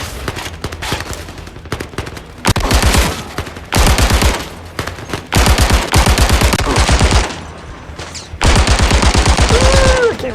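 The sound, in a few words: machine gun firing in VR video game Zero Caliber Reloaded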